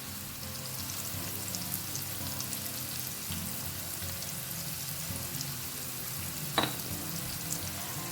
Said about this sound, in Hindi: अब प्याज को ना बढ़िया सा गोल्डन कलर आने तक हमें इसे फ्राई करना है।